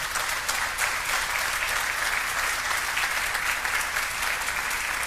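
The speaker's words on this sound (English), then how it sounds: "Let's give him a round of applause for what he has done" A crowd at a Buffalo waterfront campaign event applauds Senator Tim Kennedy, with steady, even clapping held at a moderate level for the whole stretch.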